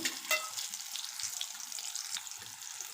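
Green chillies frying in oil, a soft steady sizzle close by with a few faint pops and scrapes, no talking.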